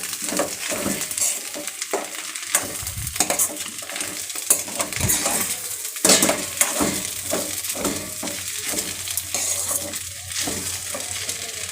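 A spoon scrapes and stirs tomato rice with garam masala in a pan, steady clinking and scraping strokes over a soft sizzle, close and continuous.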